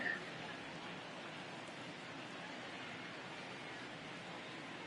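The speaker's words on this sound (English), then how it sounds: "It looks like this rain is going to be around for a while." Steady, dense rain pours down across a baseball stadium during a rain delay in MLB The Show 19, with Rangers facing the Angels, making a constant broadband hiss that runs unbroken from start to end.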